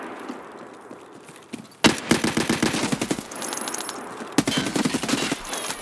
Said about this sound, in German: Schuss auf mich.